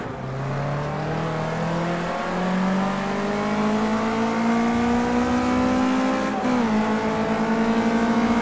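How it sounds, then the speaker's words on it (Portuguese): A racing car engine in the video game Project CARS 2 revs steadily upward in pitch, loud and continuous, with a brief gear-shift dip near the end; no voices. "Tô ouvindo um barulho de carro"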